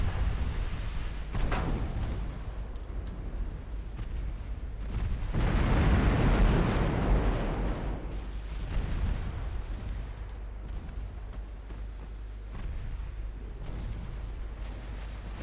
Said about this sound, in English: We do score a torpedo hit on something.